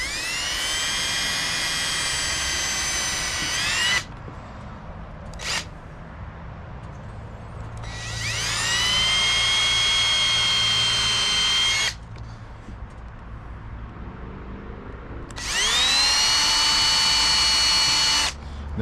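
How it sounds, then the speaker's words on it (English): Power drill driving screws into a wooden planter, three loud whining bursts of several seconds each separated by short pauses, close and alone. "And also when I drill these, I want to kind of angle it a little bit."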